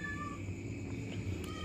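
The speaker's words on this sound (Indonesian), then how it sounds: "Itu ada penampakan kucing." A cat near a house gives a quiet, drawn-out meow over a steady background hum, with no talking.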